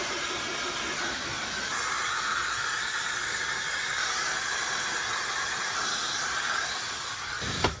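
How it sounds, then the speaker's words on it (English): A blow dryer runs continuously inside a small self-built micro camper van in the desert, making a steady whooshing roar with a slight shift in tone partway through and a brief click at the end. "And then I actually have a blow dryer, so I'll finish off with that."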